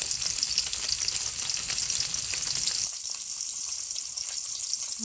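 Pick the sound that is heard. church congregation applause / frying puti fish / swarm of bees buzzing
frying puti fish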